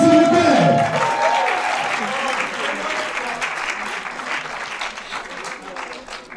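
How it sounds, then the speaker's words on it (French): Audience applause at the verdict of a beauty pageant, a sustained round of clapping that starts loud with voices briefly over it, then settles into steady crowd clapping for several seconds. "Merci de m'applaudir"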